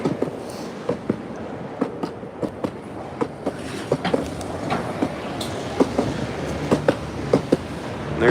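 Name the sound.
subway train rumbling underground beneath the street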